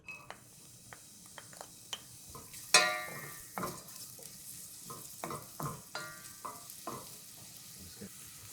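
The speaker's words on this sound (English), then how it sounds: "So now that our oil is heating up, in go shallots." Shallots sizzle quietly in heated oil, with scattered spatters and pops, a sharp clink of a utensil against the pan near the start, and gentle stirring scrapes throughout.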